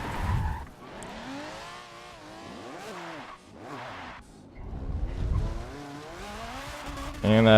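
A race car in Forza skids and wrecks, with engine drone and tire noise running under steady commentary, swelling louder toward the end.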